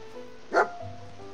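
A single short bark from a dog companion in a post-apocalyptic wasteland video game, sharp and brief against a quiet low background hum.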